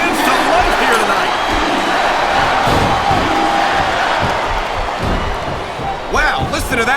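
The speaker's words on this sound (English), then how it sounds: "Wow, listen to that chant, Taz." An arena crowd in WWE SmackDown vs. Raw 2007 roars and chants in a rhythm at a women's wrestling match. Commentators talk over the steady wall of fan noise, and a sharper burst of cheering comes near the end.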